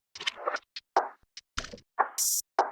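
Open hi-hat sample from a programmed percussion loop, dry with no effects, sounding as one sustained bright wash among a sequence of short dry plops, knocks and thwacks, all close and clean with no voices.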